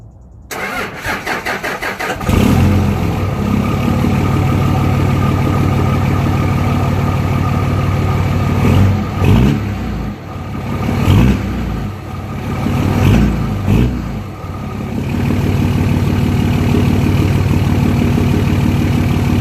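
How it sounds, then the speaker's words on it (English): A Dodge Ram 2500HD pickup cold-starts after sitting all day: a few seconds of starter cranking, then the engine catches and settles into a loud, steady idle at the exhaust, with a couple of brief revs before it evens out. "we're going to hear a nice little cold start of the truck."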